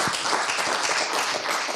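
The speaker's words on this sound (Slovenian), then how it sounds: "prosim še en aplavz za Ognjena Sviličića" An audience at a Slovenian film directors' talk event claps steadily in continuous applause, close and dense, with no speech over it.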